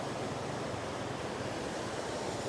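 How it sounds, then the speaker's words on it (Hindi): Meltwater from snow pouring down as a roadside waterfall on the road to Hunza, heard as a steady, dense broadband rush of falling water with no distinct breaks, constant and fairly loud throughout. "ये आबशार बना हुआ है पूरा"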